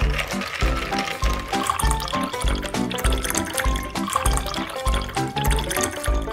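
Ice-cold water poured into gelatine in a kitchen, a continuous splashing, gurgling fill heard close up over a busy, fairly loud background with rhythmic thumping.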